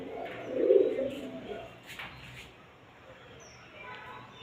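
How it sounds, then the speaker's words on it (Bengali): A single soft pigeon coo sounds early and close, followed by quiet room ambience with faint clicks and a distant high chirp. "দুটো কবুতর আমাদের"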